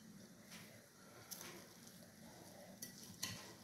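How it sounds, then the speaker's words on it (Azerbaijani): Rice pilaf with pumpkin is stirred in a pot, giving quiet, close scraping and soft gentle sizzling with a few light utensil taps against the pot. "Yaxşı qarışdırıram."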